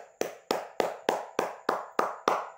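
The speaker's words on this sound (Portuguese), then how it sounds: "Palmas para Cristo que nos ajudou nessa ministração." Church congregation clapping in unison, eight sharp, evenly spaced claps about a third of a second apart, close and crisp with a short ringing decay after each.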